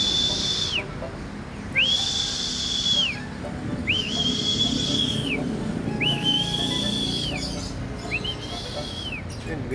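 A person whistling to call racing pigeons home, five long rising-and-falling whistles repeated at a steady pace, clear and fairly close over faint outdoor background noise.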